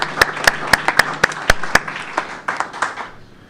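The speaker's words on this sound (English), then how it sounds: "give our Business Operations and Capital Improvements team a round of applause" Scattered handclaps from a small audience at a board of education meeting, sharp and irregular at first, then thinning into a looser patter that fades out.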